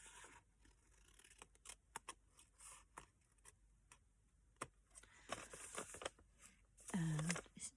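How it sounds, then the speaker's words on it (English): Scissors cutting Stamperia Klimt paper while an origami envelope is trimmed: a scattering of quiet, close snips at an uneven pace, the last stretch slightly louder and busier. "I'm gonna cut those away."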